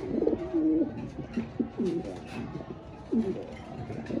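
Pigeons cooing repeatedly at close range in a large cage, soft throaty rolling calls in a steady series, with faint background rustle.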